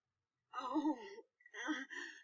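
A casualty in a first-aid training simulation gasps twice in close succession as breathing returns, two strained, voiced breaths near and fairly clear, with no talk over them.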